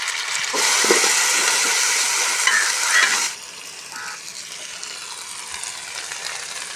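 Ginger garlic paste frying with onions for mutton biryani gives a loud, bright sizzle that drops abruptly to a softer, steady hiss partway through.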